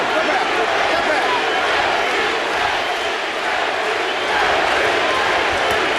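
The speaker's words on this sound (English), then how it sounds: "Crowd is chanting JT for Jermaine Taylor." A boxing arena crowd chants for Jermaine Taylor during his 2006 fight against Winky Wright, a dense, steady roar filling the hall throughout with voices talking over it.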